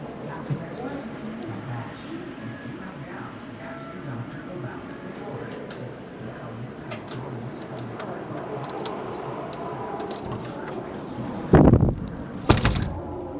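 A door is pulled open during a blizzard with 6.5 to 9.5 inches of snow, giving a loud thump and rush of wind near the end, over steady low wind noise and background talk.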